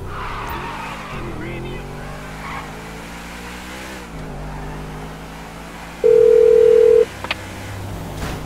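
A convertible car driving in Grand Theft Auto V: a steady engine drone with rising and falling revs, a brief loud phone-like tone partway through, and voices talking over it.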